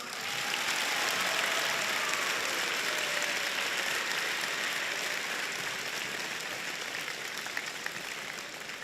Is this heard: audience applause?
yes